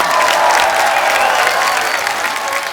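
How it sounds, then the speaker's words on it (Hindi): Studio audience on a Hindi comedy talk show bursting into loud, dense applause with cheering, a steady roar of clapping lasting throughout. "जोरदार तालियां।"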